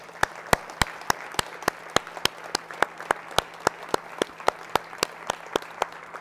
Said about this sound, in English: while you guys are applauding